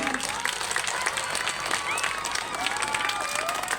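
An audience at a village revolutionary play festival held at a primary school claps loudly and continuously, a dense, steady wash of applause with crowd murmur and voices underneath.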